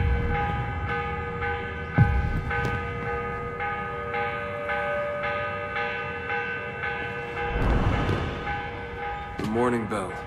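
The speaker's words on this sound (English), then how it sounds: "The morning bell. God, I hated that. Ringing 5 days a week just before dawn." A morning bell rings before dawn in Assassin's Creed Revelations, struck in a slow, regular series of tolls with a sustained ringing hum, joined near the end by a brief swell of noise and a warbling tone.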